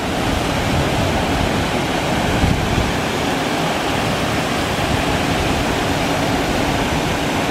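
Steady, full-bodied roar of a large waterfall in Savoie, France, loud and constant throughout with no breaks or other sounds.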